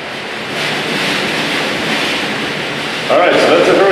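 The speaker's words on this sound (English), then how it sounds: "All right, so that's a hurricane." Strong, steady hurricane wind roars with a dense wash of rushing rain or water, loud and close, swelling slightly near the end.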